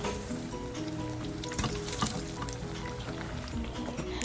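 Eggplant fritters (beguni) frying in hot oil give a steady, close sizzle with soft crackles throughout, and no voices are heard.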